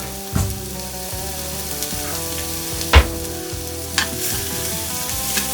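Onions frying with lard and bits of bacon fat in a pot, a soft continuous sizzle under a low hum, broken by a few sharp knocks and scrapes of a spoon stirring against the pot.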